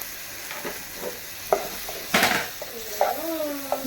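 Tomatoes tipped into a hot pan for beef dum biryani, then stirred, giving a low sizzle with scattered scraping and clinking of the spoon against the pan, close and fairly quiet, with a brief voice near the end.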